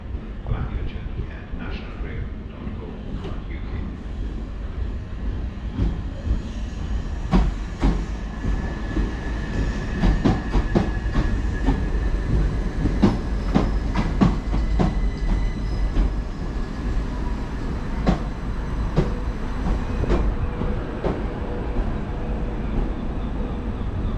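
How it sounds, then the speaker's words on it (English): A Southern Class 377 electric unit, number 377409, arrives at a West Sussex station on a terminating service from London Victoria. It rumbles steadily with rhythmic clicking over the rail joints and some faint squealing, while a person speaks over the train noise. "we've actually got a train arriving. It's a terminating Southern service"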